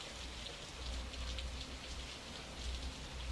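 Steady rain falls on a surface in a continuous, even hiss with dense patter of drops, fairly soft and unbroken, with no voices over it.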